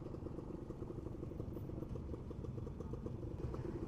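A Suzuki RK Cool 110 motorcycle engine idles steadily up close, a continuous low chugging putter with a faint mechanical clatter and no talking.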